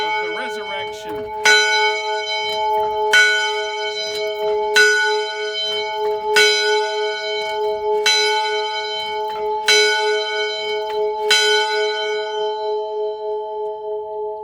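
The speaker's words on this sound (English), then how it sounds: "we ring the bell to remind ourselves of the resurrection" A single church bell ringing for Easter, struck steadily about every one and a half seconds with long ringing overtones between strikes, loud and clear with no talk.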